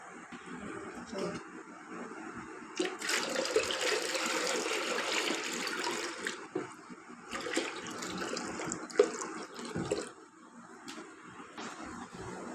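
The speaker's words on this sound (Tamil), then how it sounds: "நம்ம வந்து இப்போ ஒரு 5 இன்ச்சஸ்க்கு வந்து அக்யூரியம் வாட்டர் எடுத்துக்கிறோம்" Aquarium water is poured into a container while preparing a betta fish breeding setup. It makes a continuous splashing gush in several long pours with short pauses between them, close by and moderately loud.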